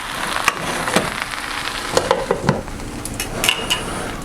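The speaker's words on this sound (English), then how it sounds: "they frying just like how I want" Potatoes frying in a pan on a home stove, a steady close sizzle and crackle with scattered sharper pops and light clinks of a utensil against the pan, no voices.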